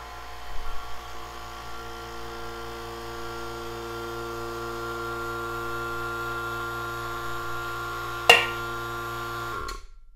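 Vacuum chamber pump drawing the air out from around a helium balloon, a steady electric drone with mains-like hum, one short sharp pop near the end before it cuts off.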